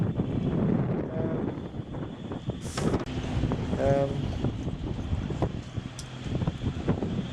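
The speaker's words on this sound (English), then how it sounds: "there's a good strong westerly now, actually slightly a southwesterly" A strong westerly, veering slightly southwesterly, buffets a sailboat's microphone with steady broadband wind rush and low rumble throughout, while faint water and rigging sounds and brief muffled voice-like tones sit underneath.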